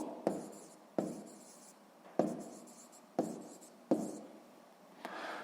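Numbers written by hand on paper for a sixth-grade maths exercise, about six distinct pen strokes each starting with a sharp tap and trailing scratch, close and quiet, no talk.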